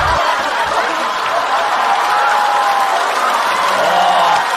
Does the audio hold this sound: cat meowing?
no